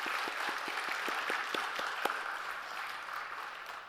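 Congregation applause at a church commissioning service, with distinct individual claps audible early on before the sound blends into a soft, steady round of clapping at a moderate distance.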